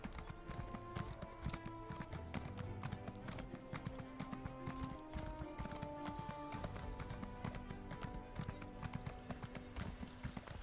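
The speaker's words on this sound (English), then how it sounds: "And for another quiet, nice and relaxing horse ride through Morrowind." Horse hooves clip-clop in a steady rhythmic trot during a ride through Morrowind in Elder Scrolls Online, continuous and close, layered over game music and ambience.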